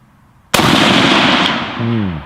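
A WWII Russian sniper rifle fires a single loud, sharp shot outdoors at a target, the report ringing out and decaying over about a second, followed by a brief voice.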